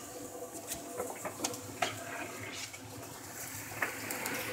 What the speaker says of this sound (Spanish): lloviendo a mares